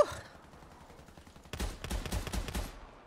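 Gunfire from the shooter game Warface: after a quiet start, a dense burst of rapid shots rings out around the midpoint and continues as loud, repeated cracks through the rest of the clip.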